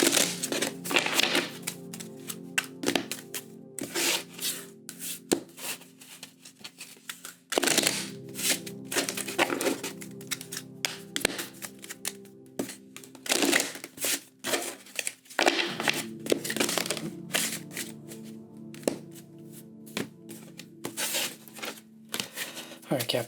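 Tarot cards are shuffled repeatedly in bursts of crisp riffling and tapping, with a person talking over much of it.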